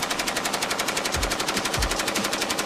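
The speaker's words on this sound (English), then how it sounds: "she regularly shares clips of her firing off weapons that are sometimes even bigger than she is" Continuous automatic weapon fire from rifles or heavy machine guns, a dense rapid rattle of shots running steadily through the whole stretch with a few heavier low thumps, loud and with no talking.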